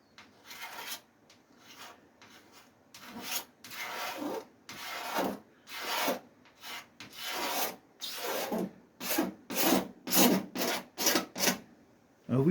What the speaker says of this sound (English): all I'm simply doing is just shaving the run off